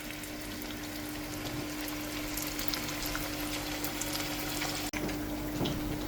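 Fish cutlets in green masala shallow-frying in oil over a medium flame, a steady dense sizzle and bubbling that holds close and even throughout, with one abrupt brief dropout near the end.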